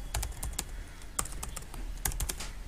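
Someone types on a computer keyboard in irregular bursts of crisp, close keystrokes over faint room noise, with no one talking.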